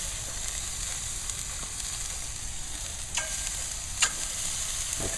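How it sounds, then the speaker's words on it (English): Thick-cut veal chops sizzle on a very hot grill in a steady, bright frying hiss, with a couple of sharper pops and crackles near the end. "you can see I've got my grill super hot, and on the grill I'm going to place my chops."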